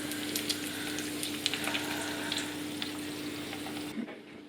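Onions fry in a pan with a sauce of smoked paprika and mustard added, giving a steady, close sizzle with small crackles and a faint hum, dropping off sharply near the end.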